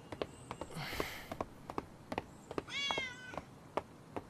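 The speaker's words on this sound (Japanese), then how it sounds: "この前の猫だ。" An anime cat gives two meows, near and clear, amid light tapping and thumping sounds.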